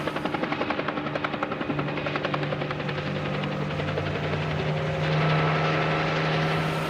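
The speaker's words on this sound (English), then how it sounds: "right now we've got that helicopter above us" A police helicopter drones overhead during a suspect search, its rotor chop pulsing rapidly at first, then blending into a steady, loud engine roar.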